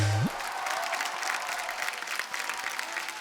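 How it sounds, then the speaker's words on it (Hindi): Loud, steady applause from a studio audience on a comedy talk show set, a dense wash of clapping that fills the whole stretch after a brief low tone at the start. "जोरदार तालियां होनी सर चाहिए"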